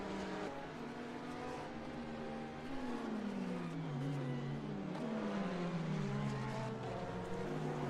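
A Ferrari GT3 race car engine howls in a sim racing game at Laguna Seca, pitch climbing and dropping through gear changes, steady and moderately loud with no talk.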